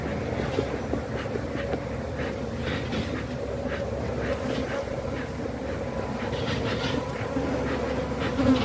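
Agitated honey bees from a defensive hive buzz as a continuous, dense drone with a steady hum throughout, close and moderately loud.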